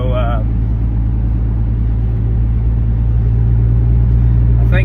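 Steady low car engine rumble while driving on a road in Illinois during deer season, continuous and fairly loud with no change in pace, road noise underneath and no talking.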